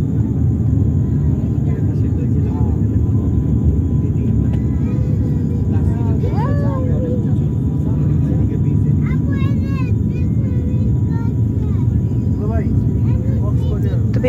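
Steady, loud cabin rumble aboard an airplane in flight over the sea near Cox's Bazar, a constant engine drone with a person talking over it in places.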